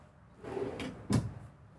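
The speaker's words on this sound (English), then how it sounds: "Drawers." A drawer in the living quarters of a 2024 Cimarron Norstar four-horse gooseneck trailer slides and shuts, a soft scrape followed by a sharper close, heard close up with no talking.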